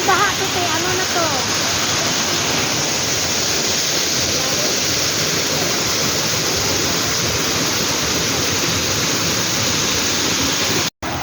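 Steady, loud roar of a waterfall in Hong Kong, a dense continuous rush of falling water heard up close throughout, briefly cutting out near the end.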